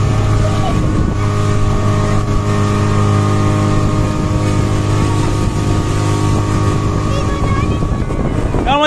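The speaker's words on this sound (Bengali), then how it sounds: "এই লেকে আমরা বোট রাইড করব।" A motorboat cruising on Patratu Lake, its engine droning loud and steady close by, with wind buffeting the microphone and faint voices underneath.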